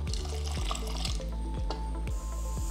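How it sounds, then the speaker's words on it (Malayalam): Water poured into a cooker holding pineapple pieces and sugar, a steady continuous liquid pour with faint splashing and dripping, fairly close and alone without talk. "നമുക്ക് അല്പം വെള്ളം ഒഴിച്ചു കൊടുക്കാം."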